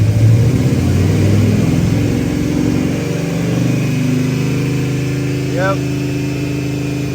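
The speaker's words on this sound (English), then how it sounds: "So now we're gonna rev it to see if the frequency will change at all." A car engine on an Auto 240 fuel system idles steadily, then its pitch climbs and settles as it is revved, with a brief spoken word partway through.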